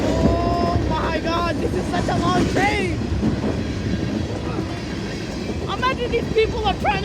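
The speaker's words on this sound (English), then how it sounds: "Oh my God, this is such a long train." A long freight train rolls past at close range, a steady rumble with wheel clatter and squealing flanges throughout, while people talk nearby.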